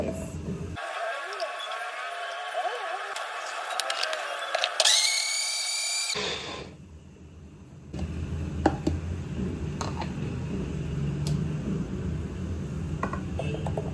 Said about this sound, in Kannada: ಇನ್ನು ಮಿಕ್ಕಿದ ಹಣ್ಣೇನಿದೆ ಇದನ್ನು ಗ್ರೈಂಡ್ ಮಾಡಿಕೊಂಡು